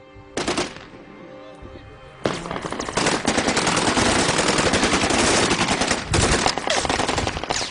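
Kalashnikov rifle fire in Syrian fighting, a single sharp shot opening into loud sustained bursts of automatic gunfire, dense and close, with overlapping cracks continuing to the end.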